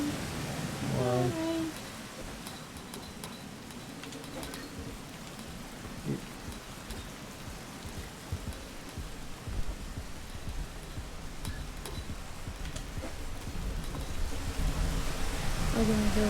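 A heavy rain downpour in the game Rain World roars as a dense, continuous wash with low rumbling beneath, steady and building slightly toward the end, with a brief tonal game sound near the start.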